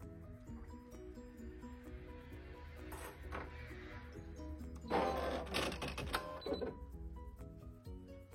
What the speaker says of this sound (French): comme quoi l'unité de broderie se réinitialise